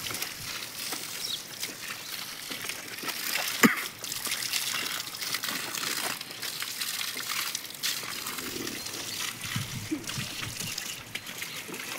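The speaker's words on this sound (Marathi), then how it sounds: "आता हारण्या धुवायचं चालू आहे." Cattle are being washed outdoors on a sunny day, with steady close splashing and trickling water that runs throughout.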